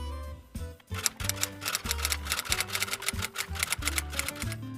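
Fingers type on a computer keyboard, a rapid, close run of crisp key clicks and taps in an uneven rhythm, with no voices.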